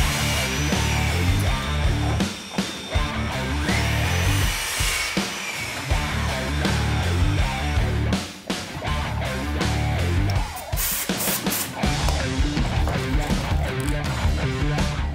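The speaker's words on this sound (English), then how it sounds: "Just the one battery to power this chop saw." A cordless 18-volt chop saw running hard and cutting through architrave and skirting board for internal second-fix carpentry, loud and continuous for the whole stretch with brief dips between cuts.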